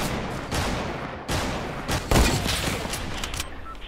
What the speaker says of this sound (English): A lot of people shooting.